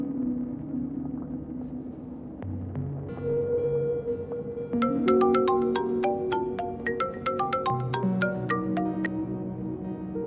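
A phone rings as a call is placed in a Bangladeshi TV drama, its tones climbing repeatedly in a melodic ringtone pattern over a background music bed, fairly clear and close with no speech.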